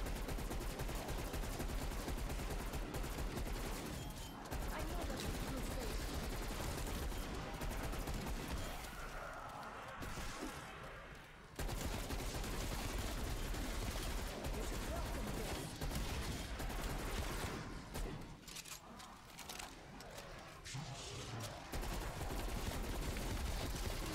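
Sustained, fairly faint weapon fire rattles through a Cold War Zombies round, near-continuous bursts with a couple of short dips, while a voice talks over it in places.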